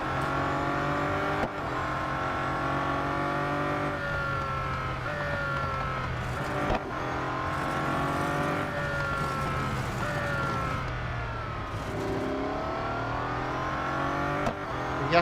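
A Bugatti Centodieci races in Real Racing 3, its game engine note loud and continuous with repeated rising revs and sharp dips at each gear change, no voices over it.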